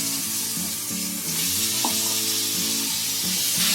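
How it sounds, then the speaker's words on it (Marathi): Steady, loud sizzling of brinjal frying in oil on a hot griddle fills the clip, with a constant crackling hiss throughout. "तवा तापलेला आहे आपला. त्याच्यामध्ये आता ही वांगी टाकते."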